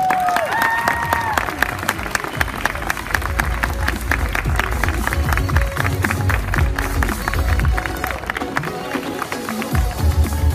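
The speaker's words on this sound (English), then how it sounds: "Ladies and gentlemen, massive round of applause for Steph!" A convention crowd at Gammacon breaks into loud, sustained applause and cheering, with close claps and shouts over a busy background and some talk mixed in.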